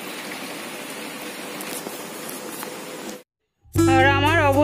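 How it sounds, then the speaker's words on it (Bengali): Heavy rain falls on a rainy evening, a steady dense hiss for about three seconds before cutting out, followed by music. "প্রচণ্ড জোরে বৃষ্টি হচ্ছে।"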